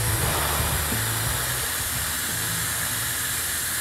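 Stick welding the hot pass on a pipe spool at 175 amps, a steady broadband hiss and crackle that holds evenly throughout, with a low hum underneath.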